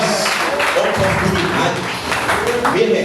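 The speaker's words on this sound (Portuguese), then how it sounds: "então aplaude esse Deus" A church congregation applauds during a worship service, with dense, sustained clapping that sits loud and close, mixed with voices throughout.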